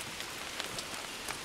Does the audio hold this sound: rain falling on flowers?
yes